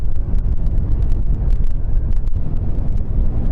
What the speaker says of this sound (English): I'm sure you can hear how windy it is now.